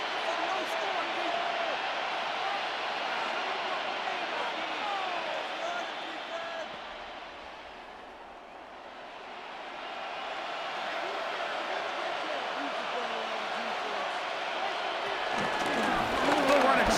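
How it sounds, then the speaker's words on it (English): Stadium crowd noise from a Madden 26 football video game, Washington Commanders vs Las Vegas Raiders, a steady roaring wash that dips briefly mid-stretch then swells again, with announcer commentary over it. "they're going to hear it from this crowd"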